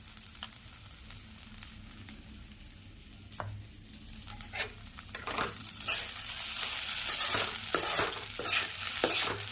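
Idli upma is stirred in a pan with sharp clattering scrapes over a low sizzle that grows louder and brighter toward the end.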